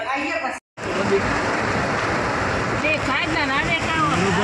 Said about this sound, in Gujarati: વરસાદ ચાલુ થઈ ગયો જોરદાર